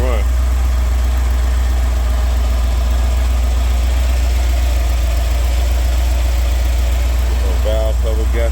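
A 1991 Ford F-150 Lariat 4x4 with a 5.8L V8 idles steadily under restoration, a loud, constant low rumble close by with voices faintly over it near the end.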